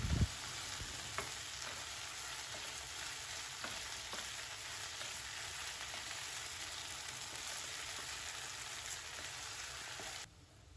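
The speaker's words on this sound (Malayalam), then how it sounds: "എന്നിട്ട് ഹൈ ഫ്ലെയിമിൽ വെച്ച് തന്നെ നന്നായിട്ട് മിക്സ് ചെയ്യാം." Butter garlic chicken with soy sauce stir-fried in a pan over a high flame, a steady crackling fry with occasional stirring taps that stops abruptly near the end.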